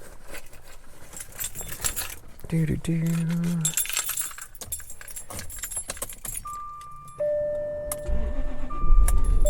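Ignition key jangling and turning in a Jaguar XJR, a metallic key-ring rattle followed by a steady electronic chime tone inside the car, with a brief voice and interior clicks around it.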